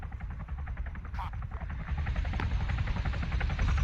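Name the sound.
aircraft flying low in the video game Arma 3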